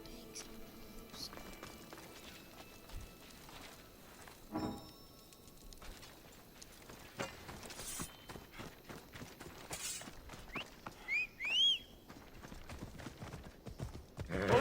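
A horse gallops in the Assassin's Creed video game, with rhythmic hoofbeats over game noise, scattered sharp hits and a short high squeal late on, under intermittent talk.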